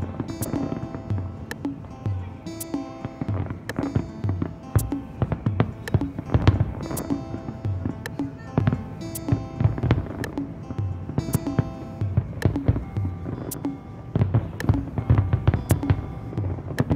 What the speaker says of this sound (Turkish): San Sebastian gökyüzünü aydınlatan muazzam bir havai fişek gösterisi bizi bekliyordu.